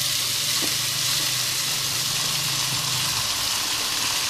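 Rice poured into a pot of toasted orzo-style vermicelli sizzles steadily in hot fat, a close, even crackle that continues throughout with no talking.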